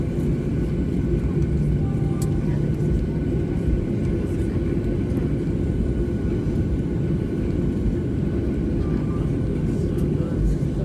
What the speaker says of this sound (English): We will be taxiing for the next minutes.